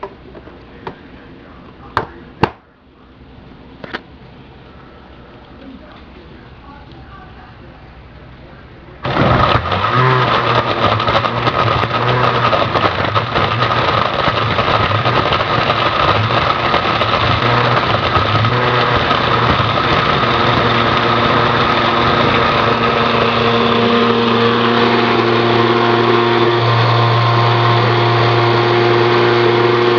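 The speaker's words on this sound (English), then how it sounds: "So I'm going to go on ahead and blend this up." A countertop blender chops and purees a smoothie of fruit, yogurt and ice, starting abruptly after a few quiet seconds with faint handling knocks, then roaring loudly and steadily to the end.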